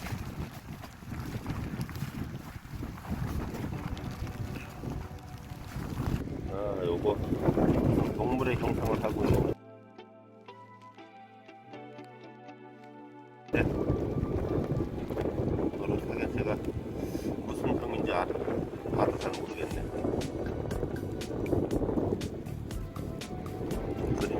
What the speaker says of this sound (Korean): 바람이 아주 몹시 불고 있는데